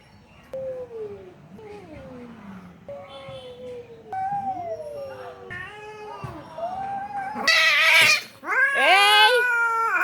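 Two cats yowl and meow at each other at close range, their drawn-out wavering cries trading back and forth and growing into a loud, harsh caterwaul near the end.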